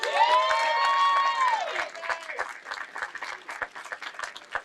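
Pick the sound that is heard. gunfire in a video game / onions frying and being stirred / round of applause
round of applause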